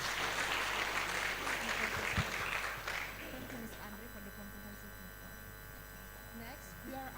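An audience at a knowledge exchange programme event claps for the governor's representative, a brisk burst of applause that fades after about three seconds, leaving a steady electrical hum and a voice speaking faintly.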